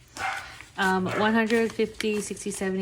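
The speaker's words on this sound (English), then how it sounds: "And my dog is barking" A pet dog barks at home in a few sharp, close bursts, mixed in with a person counting aloud.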